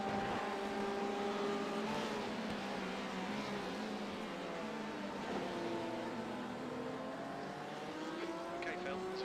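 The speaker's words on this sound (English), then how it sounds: "Okay, Phil, there's a faster car approaching" Race car engines in the iRacing sim during the 24 hours of Daytona drone steadily, with pitch sweeps as cars accelerate and shift, and a faster car closing in; a voice talks over the continuous engine noise.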